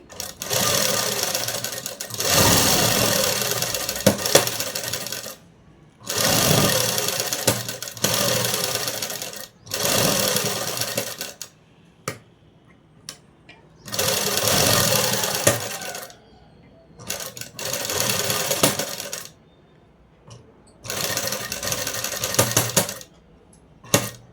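A sewing machine stitching a folded-in cloth hem runs in five or six steady whirring bursts separated by brief quiet gaps, close and fairly loud.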